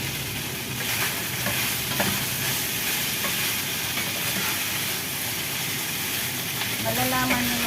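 Minced pork and eggplant are stirred in a frying pan, giving steady close sizzling and hissing with occasional scrapes of the utensil against the pan throughout.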